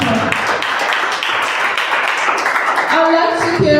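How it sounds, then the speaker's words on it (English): Applause at a school science fair inter-house competition: dense, steady clapping from a sizeable audience filling the room at close range, continuing unbroken for several seconds, with some voices mixed in near the end. "Can we please give him a round of applause?"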